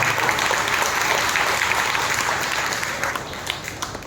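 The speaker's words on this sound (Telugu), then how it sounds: "మరొకసారి ప్రభువుకు మనం బిగ్గరగా చప్పట్లు కొట్టి ప్రభువును స్తుతిస్తాం" A church congregation claps loudly in sustained, dense applause during a Sunday worship service, steady and full throughout before easing slightly toward the end.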